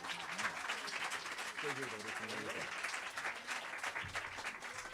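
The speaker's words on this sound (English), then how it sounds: "saw most of those folks out there were clapping" Steady audience applause at an outdoor Shabbat gathering, dense and continuous clapping throughout, with a brief voice speaking over it.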